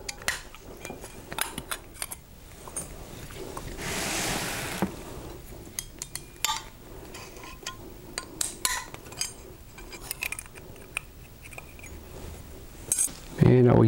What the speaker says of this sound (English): Now I'm going to loosen my shaft guard screws.